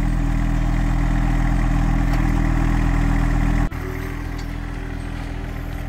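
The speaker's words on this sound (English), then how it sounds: "Drives the tractor and dumps it like he's been doing it for years." A farm tractor runs steadily while hauling compost from a barn to the pile, its engine a loud, close, continuous rumble with a brief abrupt dip in tone partway through before settling again.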